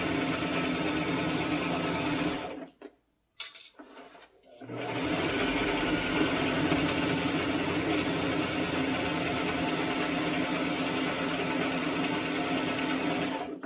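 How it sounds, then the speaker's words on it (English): Lightweight serger sewing machine stitching fabric for a DIY dress, a fast steady mechanical whir that cuts out briefly, then resumes and runs on continuously, close by. "This is a lightweight serger."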